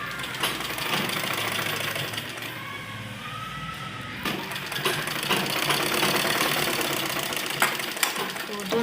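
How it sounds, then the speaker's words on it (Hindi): A sewing machine stitches a kurta sleeve while converting full sleeves to half sleeves, giving a steady close whirring drone with a rapid mechanical patter that runs throughout. "सिलाई कर देंगे।"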